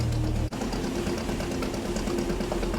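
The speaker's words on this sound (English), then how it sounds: "you can imagine the pistons of that diesel engine running" A fishing boat's diesel engine runs steadily on the Barents Sea with a loud, continuous low throb and mechanical chatter, broken only by a momentary dip near the start.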